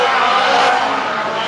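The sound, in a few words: rebuilt race car at PS-Hölle race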